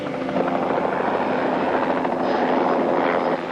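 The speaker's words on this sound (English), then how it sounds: "It's a helicopter." A helicopter's steady rotor drone and engine roar fill the air, loud and continuous, with a faint rhythmic chop throughout.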